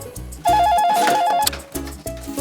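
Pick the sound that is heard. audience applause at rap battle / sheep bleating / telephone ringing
telephone ringing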